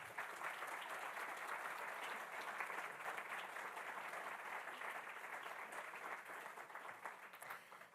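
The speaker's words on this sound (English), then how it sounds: "Let's give them another round of applause." An audience at a university graduate-program event applauds the panelists, a steady dense wash of clapping heard from some distance, fairly faint and continuous with no talk over it.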